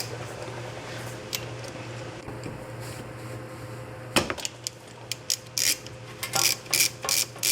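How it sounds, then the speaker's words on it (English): Ratchet wrench working a 14mm brake line banjo bolt free, a low steady hum at first, then a sharp crack as it breaks loose, followed by a run of quick, close clicking ratchet strokes. "I like to break free the Banjo bolt, which is right here."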